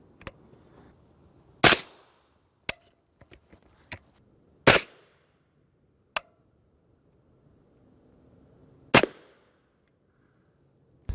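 Subsonic 8.6 Blackout rounds fired from a 12-inch rifle with a Q Pork Chop attachment strike a hard armor panel: several sharp, isolated reports ring out among fainter clicks and taps, with quiet pauses between them.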